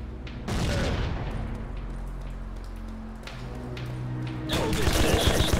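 A grenade blows up in the shooter game Rogue Trooper Redux, a loud broadband blast surging near the end over steady crackling, rain-like gunfire noise, with an earlier burst near the start.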